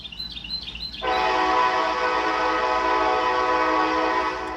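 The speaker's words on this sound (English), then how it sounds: "that's a freight train that's coming by" A freight train near the tracks sounds a long, steady horn blast after a second of faint bird chirps, holding loud and even for about three seconds before cutting off.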